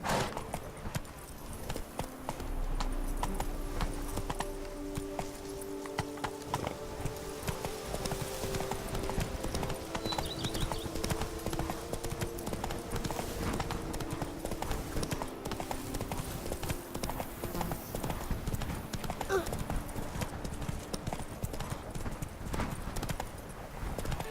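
Steady hoofbeats from Roach, the horse in The Witcher 3, clip-clop continuously in an even trotting rhythm, with soft game ambience and an occasional faint neigh behind.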